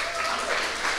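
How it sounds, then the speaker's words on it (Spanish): A room full of people applauding a presenter at a startup demo day, a dense, continuous wash of clapping, loud and close, with voices mixed into it. "recibimos con un fuerte aplauso a Joaquín Victoria"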